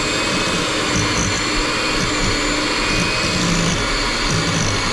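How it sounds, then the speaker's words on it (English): An electric mixer runs at low speed beating butter for double chocolate cupcakes, a loud, even motor whir that holds steady without a break. "We start to beat this butter until it's nice and light, and then we'll go from there. So let's start on a low speed."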